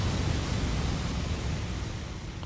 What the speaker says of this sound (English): You gotta like wait until the sound of the flame dies down